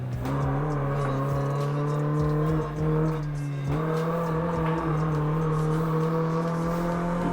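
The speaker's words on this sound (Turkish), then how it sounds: "Orada arabanın sesi uyumuş bence. Gerçekçi duruyor." Engine of a Doğan SLX car in the racing game Assetto Corsa, droning loud and steady at high revs with a brief dip in pitch partway through, as on a fast road drive.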